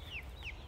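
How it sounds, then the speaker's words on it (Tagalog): Chickens in a backyard coop on a small farm, two quick clucking calls in succession, fairly faint over low background noise. "pupunta tayo doon sa aking manok, sa aking manukan na naghihintay na kasi gutom na daw sila."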